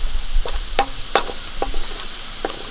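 Vegetables, including chopped medium onion, being sautéed in a pan for prawn fried rice: a soft steady sizzle with several clear scraping strokes of a spatula, close and alone without talk.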